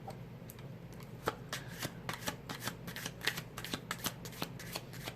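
Tarot cards are shuffled rapidly, giving quick papery riffles and sharp flicks in an irregular burst, close and fairly quiet with no talk.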